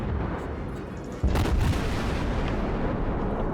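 Heavy naval guns fire in a World of Warships battle, a sudden loud boom near the middle followed by rumbling blasts that carry on through the rest of the clip, with a steady background of game noise.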